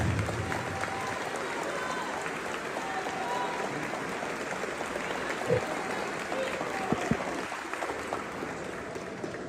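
A crowd at a Haitian political gathering applauds steadily, a dense continuous wash of clapping with crowd noise that holds at an even level throughout.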